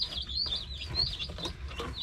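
Young meat chicks chirp in high, rapid, overlapping peeps close by, a busy flock cheeping continuously without any talking.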